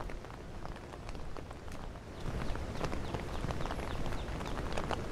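Rain falls at the pond in New York City's Central Park, a steady close patter on surfaces and water that grows heavier and denser after the first couple of seconds, with no talking.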